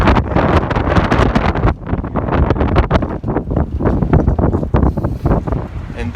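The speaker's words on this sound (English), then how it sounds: "it's pretty cold with that wind blowing up here" Strong cold wind on a snowy mountain top in the Smokies buffets the microphone in loud, continuous roaring gusts that surge and dip without a break.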